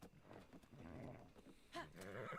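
A horse neighs in the video game Zelda Tears of the Kingdom, a whinny rising partway through over steady game sounds and a low voice, with hoof-like clopping beneath it.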